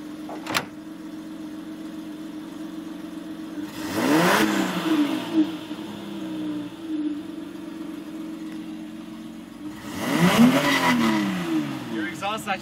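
A BMW 325i E30 fitted with a KaMotors intake idles at night, then revs up twice in strong swelling bursts that fall back to idle, with people talking nearby.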